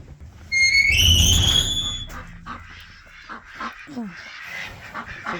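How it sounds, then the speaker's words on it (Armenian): Loud honking calls from geese burst out near the start, then fade into scattered farmyard noise and faint voices. "Սագեր էլ ունեք, հա, ինչ լավ է։"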